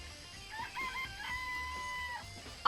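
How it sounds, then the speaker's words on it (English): Chickens in Danganronpa: Trigger Happy Havoc give a short run of clucking and crowing-like calls over a low game hum, fairly clear and continuous for a couple of seconds. "Let's look at the chickens."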